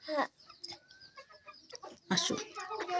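A chicken clucks in short, scattered calls at a village picnic while people talk close by.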